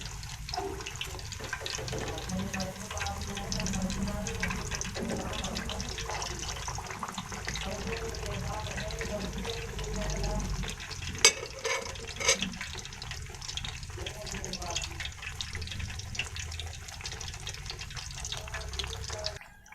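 Besan naan deep-frying in hot oil gives a steady, close crackling sizzle throughout, with a few sharper pops partway through and a faint voice in the background.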